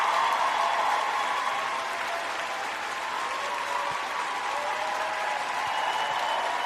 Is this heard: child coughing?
no